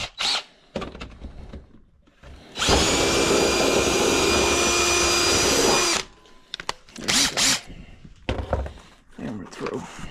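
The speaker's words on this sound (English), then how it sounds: "So we'll take this bit and we'll drill it." A power drill bores through a workbench top from below, a loud steady whine running about three seconds between stretches of quieter handling and short bursts of other tool noise, with someone talking around it.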